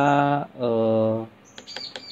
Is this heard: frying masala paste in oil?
no